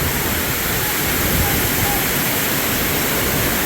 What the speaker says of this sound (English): we made it to the top of the falls